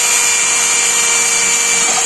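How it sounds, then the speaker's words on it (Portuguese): A power drill bores into a dried gourd to start an opening, giving a loud, steady high-pitched whir that holds without a break for about two seconds with no talking. "Vou usar a furadeira para fazer o começo."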